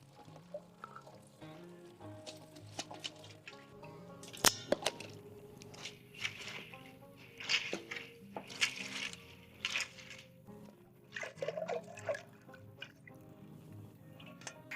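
Beans rinsed under running water for flourless brownies, with scattered drips, splashes and light clinks of beans against a metal colander or sink, soft and close throughout with no talking.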